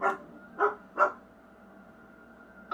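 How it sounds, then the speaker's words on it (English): A dog in the Back to the Future video game gives three sharp, close barks in the first second, the last two quickly paired, followed by a quiet steady background hum. "Leave that creature outside! What creature? Oh, the dog."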